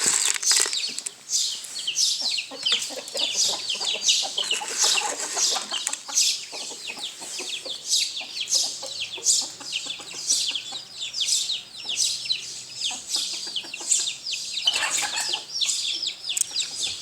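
A busy flock of chickens and guinea fowl clucks and squawks nonstop nearby on a balcony, with bursts of wing flapping mixed into the chatter.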